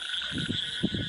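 Frogs croak in rain-flooded paddy fields, a few short throaty calls in quick pairs, against a steady high insect drone.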